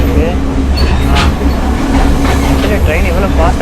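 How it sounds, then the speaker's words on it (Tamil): A passenger train travels fast along a Sri Lankan railway, giving a steady loud rumble with faint rhythmic wheel clatter that continues throughout. "ஆக்சுவலி ட்ரெயின் இவ்வளோ ஃபாஸ்ட்டாக போகுது"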